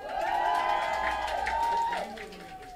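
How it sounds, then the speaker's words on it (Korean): Applause and cheering from an indoor crowd at a Seoul campaign office opening event, a dense burst under a loud voice over a speaker system, fading down near the end. "오셨는데 큰 박수 좀 보내주세요."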